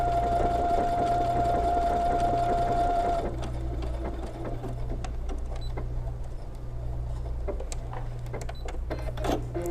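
A sewing machine stitches a belt loop in a steady, continuous whir with a faint rapid needle ticking. A soft tone ends early, and sharper clicks follow, all close and alone without talk.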